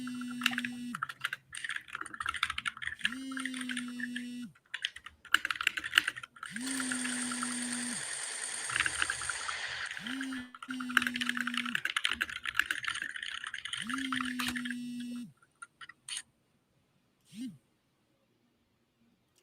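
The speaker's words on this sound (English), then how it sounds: "Is it just me, or does my typing now sound like fucking crabs walking on the sand?" Computer keyboard typing with dense clicking from the keys, under a humming tonal background and intermittent other noise, before falling quiet near the end.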